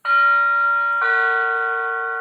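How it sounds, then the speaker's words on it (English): A doorbell chimes twice, a clear two-tone ding-dong whose second note rings out and slowly fades, loud and close with no talk. "the bell goes off."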